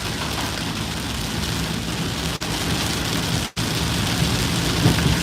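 Steady, dense rain pouring down outdoors, a loud continuous hiss close by, broken only by two brief dropouts, with no voices.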